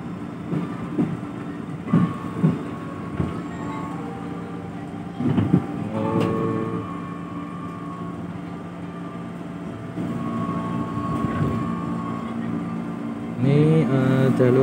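A KRL Commuter Line electric train runs on new track near Bekasi station, heard from inside as a steady rumble with occasional clacks and squeals at moderate level, no talking.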